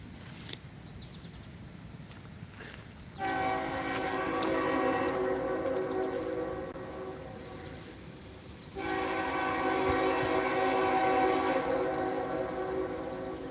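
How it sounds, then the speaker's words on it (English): At trackside in Thurmond, West Virginia, a long empty coal train's horn blares in two long, layered blasts, separated by a quieter stretch, heard from some distance over steady rumbling background. "There's the train."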